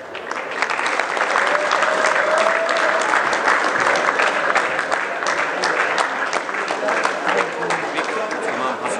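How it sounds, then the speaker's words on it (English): Crowd at a closing ceremony clapping and cheering, a loud sustained burst of applause holding steady for the full stretch with no break. "A big cheer for them."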